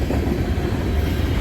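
Norfolk Southern manifest freight train passing near Bainbridge, New York, a loud, continuous low rumble and rolling wheel noise filling the short stretch, with no voices.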